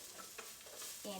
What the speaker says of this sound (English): then it's about time to add your tomatoes